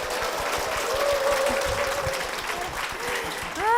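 A church audience breaks into applause for a mother and her four-year-old daughter being welcomed forward, dense steady clapping with a sung or spoken tone riding faintly over it, swelling louder at the very end.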